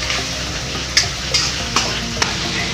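Masala for gourd kofta gravy sizzles in a pan while a spoon scrapes through it in four sharp, evenly spaced strokes over the steady frying hiss.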